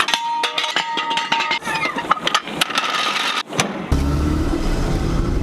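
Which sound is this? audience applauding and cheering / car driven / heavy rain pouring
car driven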